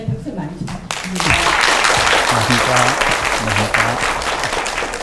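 An audience breaks into applause as a speaker is introduced at a Korean science lecture, dense clapping swelling after a short spoken intro and continuing steadily under background music.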